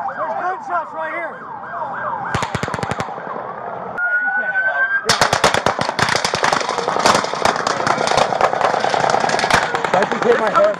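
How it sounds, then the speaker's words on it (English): Rapid bursts of automatic gunfire crack out during the Las Vegas mass shooting. Wailing police sirens sound throughout, and a long barrage of shots follows a shorter burst. "There's gunshots right here!"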